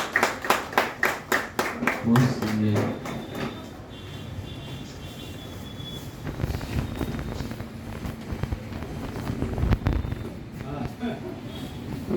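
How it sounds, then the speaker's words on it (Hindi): Audience at a bank branch gathering applauds a senior officer with a burst of sharp, rhythmic claps over the first few seconds. Mixed talk and room noise follow. "कृपया सीनियर ऑफिसर के लिए तालियां हो जाए।"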